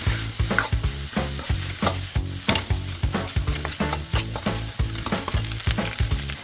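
Fried rice sizzles and is stirred in a pan after dark soy sauce mixture is added, with loud rhythmic scraping and tossing strokes over a constant hiss.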